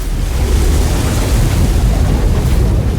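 Loud rushing water gushing in abundance from a rock struck with a staff, a dense continuous roar with no breaks, like a heavy torrent pouring out.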